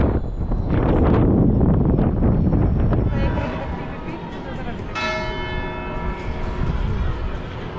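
A bell rings at Tibidabo amusement park in Barcelona, with loud, sustained metallic tones that start amid heavy wind and ride noise and then linger with a shimmering decay.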